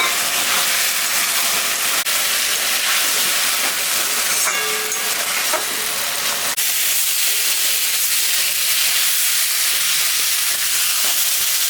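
Spice paste of ginger, cumin, dried and green chillies with tomato sizzles loudly in a pan for a rohu fish curry, a constant bright hiss broken by a short burst of stirring scrapes midway.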